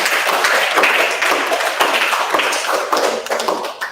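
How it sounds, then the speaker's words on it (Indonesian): A university audience applauds the 2017-2021 rectorate team, a close, busy burst of clapping with uneven sharp claps that swells and dips briefly. "Tepuk tangan untuk kita semua."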